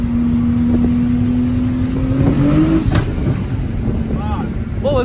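A turbocharged car accelerating hard at high boost on a freeway, a loud sustained engine roar with a rising tone as it pulls, with people talking over it inside the cabin.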